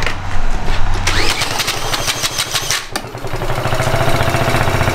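A power drill whirs and a 50cc quad engine that sat unused for years sputters, catches and starts running, settling into a loud, rapid idle.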